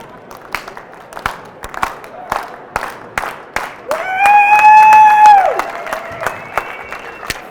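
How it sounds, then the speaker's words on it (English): A slow clap from an audience at a business presentation, widely spaced single claps in a steady rhythm, broken midway by a loud whoop and cheering before the slow claps resume. "please do an E-Learning Brothers slow clap for Richard Lowenthal"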